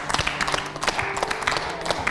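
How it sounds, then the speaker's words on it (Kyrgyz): A studio audience claps steadily, a brisk patter of many hands at moderate loudness with no voices over it. "Кол чаап коелу."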